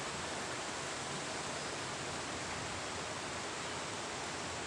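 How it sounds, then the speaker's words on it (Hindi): The Bisgadi river flows past a riverside shrine of Lord Tarakeshwar, a steady, full rushing wash of water that holds an unbroken, fairly loud level throughout. "ये भगवान तारकेश्वर के चरणों से बिसगड़ी नदी आ रही है"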